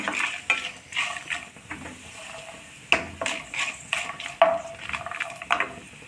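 Chana dal and curry leaves frying in hot oil in a pan for cluster beans rice, a steady sizzle punctuated by spoon clinks and stirring scrapes against the pan.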